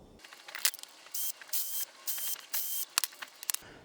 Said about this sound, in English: I'm just going to remove those screws and we're going to put some grease in there.